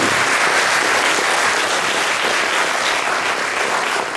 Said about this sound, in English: Applause for yourself.